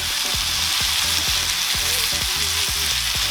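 Chicken fajitas sizzle hard in a hot pan, a loud, steady hiss broken by rhythmic scraping knocks of a utensil stirring the mix, with no voices.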